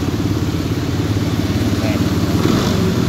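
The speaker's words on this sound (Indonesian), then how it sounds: "mesin masih dalam keadaan hidup" A Yamaha NMAX scooter with a check-engine fault and erratic idle runs at idle close by, making a continuous low, even putter with a light mechanical clatter.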